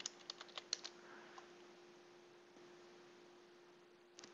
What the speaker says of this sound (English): And then type your password.